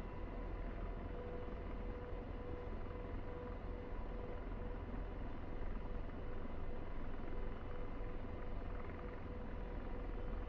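An AH-64D Apache helicopter in a video game hovers over a runway, its rotor and turbine giving a steady, even drone with a constant low rumble and no voices.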